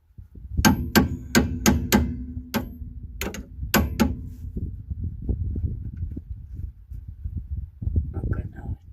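A hammer strikes the tie rod on a Peugeot 404 in a quick series of sharp metallic bangs, loud and close, followed by lower clunks and rustling as a voice speaks.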